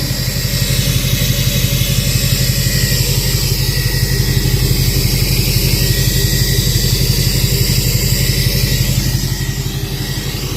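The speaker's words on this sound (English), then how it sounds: "truck is running. Got the new 5-inch exhaust." LBZ Duramax diesel truck idling through a new 5-inch straight pipe exhaust, a loud, close, rapid steady rumble with a deep pulsing throb that holds even throughout, no talking.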